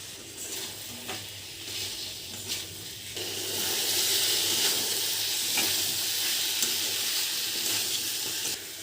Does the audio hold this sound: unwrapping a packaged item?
no